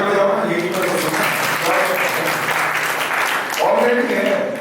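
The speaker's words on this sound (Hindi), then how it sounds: "तालियां बजाओ ना" An audience at an Arya Samaj religious discourse in Mayur Vihar claps in a steady burst of applause, with a voice talking over the clapping throughout.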